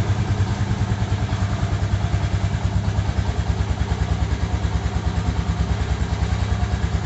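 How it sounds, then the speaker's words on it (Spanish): A motorcycle engine idles steadily and loudly after an ignition coil replacement, with an even, rapid pulsing rhythm and a slight mechanical clatter throughout, no revving. "el encendido de la motocicleta no hay que acelerarla"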